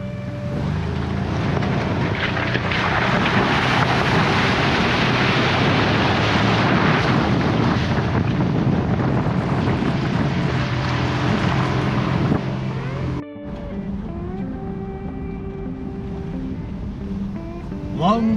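A vehicle on an outback road trip drives through a second creek crossing, a steady loud rumble of engine and splashing water with wind buffeting the microphone, briefly cutting out before a quieter, tonal engine drone continues.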